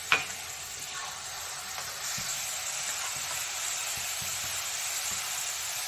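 Dal frying in oil in a kadai for crispy dalmut, a steady close sizzle and bubbling crackle lasting several seconds, with a brief clink at the start and no voices.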